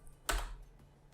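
A single sharp keystroke burst on a computer keyboard, close and fairly loud, followed by faint quiet room noise with a steady low hum.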